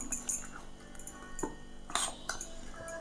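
A spoon stirring tapioca dosa batter in a bowl: irregular clinks and scrapes of metal against the bowl, close and moderately loud, with no talking.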